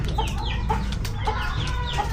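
A turkey calls repeatedly in short clucking bursts against a loud outdoor background, with overlapping fowl noises close by.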